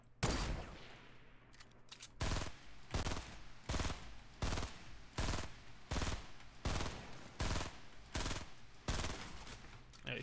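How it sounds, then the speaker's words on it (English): Rapid automatic gunfire in an online shooter game, loud sustained bursts repeating at a steady rhythm for about ten seconds, with no voices over it. "he's shooting at me still"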